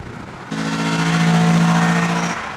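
An Audi RS6 engine accelerates hard, a sudden loud droning rise with a strong low tonal growl that holds for about two seconds before easing off.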